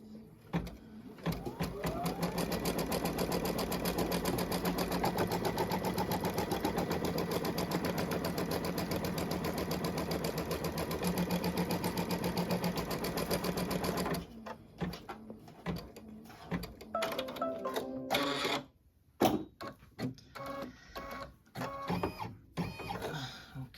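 Embroidery sewing machine stitching a placement line on a hoop project, a fast continuous mechanical whirring rattle for about fourteen seconds, then stopping into scattered handling clicks and rustles.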